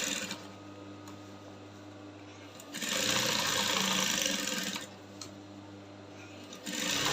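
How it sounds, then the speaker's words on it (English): A sewing machine stitches the seam of a long pencil skirt, close and steady, running in bursts with a steady whirring hum, a short pause, then a louder run and a brief restart. "So I'll sew it down to the point where we want the structure to stop, and there we'll backstitch."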